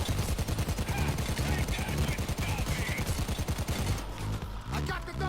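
Automatic fire from an assault rifle or SMG in a shooter game, fired during a recoil test, rattles in one fast steady burst for about four seconds and then stops.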